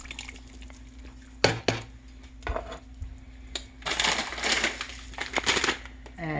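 Canned stewed tomatoes tipped into a cooking pot of simmering, tenderizing meat: a couple of sharp clunks, then a longer stretch of wet sloshing and splattering, close by.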